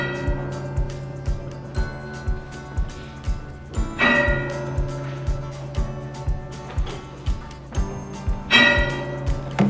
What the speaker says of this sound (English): the bell will once again ring to announce the session of the Court of Appeals